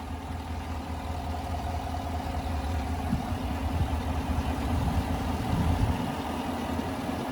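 A 2020 GMC Yukon SLT with its 5.3 liter V8 idling under an open hood, a steady low rumble that holds evenly for several seconds, close up with no talking.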